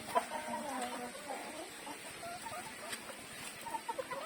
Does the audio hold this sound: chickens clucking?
yes